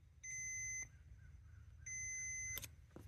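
Two long steady beeps from a multimeter testing continuity to ground on green wires in the heated grip and seat wiring of a 2006 Honda Goldwing, each lasting about half a second or more, close and alone with faint clicks.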